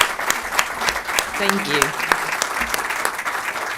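Audience applause at the closing session of an AI conference in Trento, steady clapping from a crowd with a few sharper close claps, and someone briefly speaking over it.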